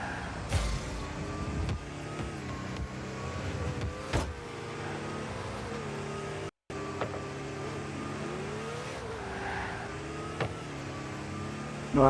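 Rocket League match with a game car engine revving and whooshing at moderate volume, rising and falling pitch sweeps and a few impact bangs, continuing through a brief cut.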